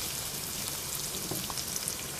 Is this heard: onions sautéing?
yes